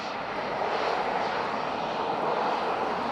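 A plane passes at Dublin Airport, its jet engine roar loud, broad and steady for the whole stretch with no talking over it.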